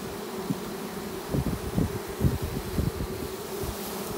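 Honey bees from a spring swarm hum in a continuous, steady drone, with brief louder buzzes as individual bees pass close; no voices.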